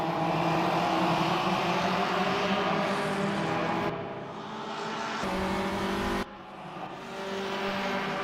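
Race cars in a racing video game roar past one another on a street circuit at Pau, engines loud and steady, with sharp cuts and a brief dip as one car overtakes another.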